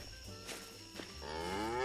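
A cow in the open-world survival crafting game Hold Your Own lets out a drawn-out moo that rises toward the end, faint and somewhat distant, over low game ambience with a couple of soft clicks.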